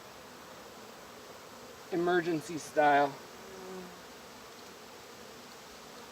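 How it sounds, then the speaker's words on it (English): Honey bees swarm around an opened hive with a continuous soft buzzing drone throughout, and a person speaks briefly over it near the middle. "I'm gonna have to put these bees back together because I'm getting dive bombed in the face."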